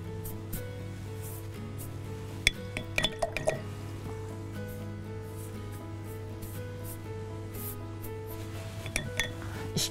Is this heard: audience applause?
no